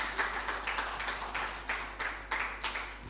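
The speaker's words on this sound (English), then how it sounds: "Please give her a round of applause as she comes to the stage" A small audience claps as a woman walks up to the stage, sparse hand claps landing in a steady, fairly even rhythm over a low constant hum.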